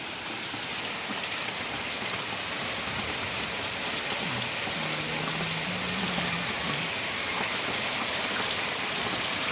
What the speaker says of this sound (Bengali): দেখো কত বৃষ্টি হচ্ছে